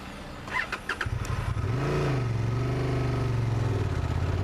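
A Honda Transalp motorcycle engine catches and settles into a steady, close rumble with a rising and falling tone as it pulls in second gear, preceded by a few brief clicks.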